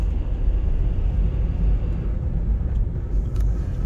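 A cold car engine, parked for two days, idles at close range with a catalytic converter clamp fitted, a steady low rumble with no one speaking.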